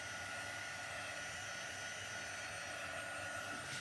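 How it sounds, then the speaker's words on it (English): A hand dryer blows steadily on chalk paste, a constant airy whoosh close by with no pauses or talk. "Now I'm going to take my dryer. I'm going to dry off my chalk paste."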